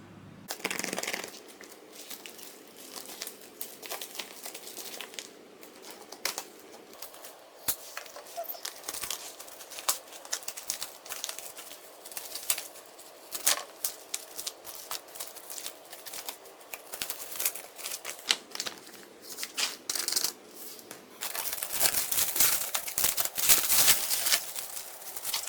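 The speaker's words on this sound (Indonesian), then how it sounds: "aku tadi udah buka packaging yang lapisan pertama" Outer packaging of a Coach Brooks rose gold automatic watch being opened, with steady close crinkling, rustling and small tearing crackles that turn louder and busier near the end.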